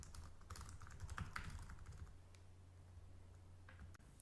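Typing on a computer keyboard, a steady run of quick, light key clicks at close range over a low background hum, with no talking.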